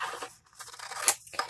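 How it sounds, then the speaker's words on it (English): Scissors snipping through a paper photograph at a craft table, a few short crisp cuts with slight rustling of paper between them, close and fairly quiet. "Now here is our photograph. Let's cut that out."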